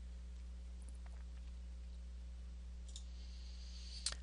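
A few faint, sparse computer mouse clicks, spaced a second or two apart, sound over a steady low electrical hum in a quiet room.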